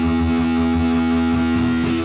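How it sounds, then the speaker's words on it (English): Electric guitar played through a Danelectro French Toast distortion pedal with the distortion turned up, giving a loud, sustained, gritty chord that rings steadily, with fresh attacks near the end and no talking. "The next one is distortion."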